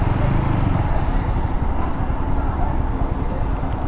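A TVS Apache RTR 160 4V motorcycle is ridden along a road through Chalan Beel, Natore. A loud, steady engine drone mixed with rushing wind noise continues without a break, and no one speaks.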